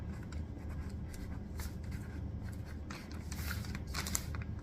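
Marker or chalk strokes on a classroom board, a steady scratchy writing sound in short bursts under a low room hum, with no talking.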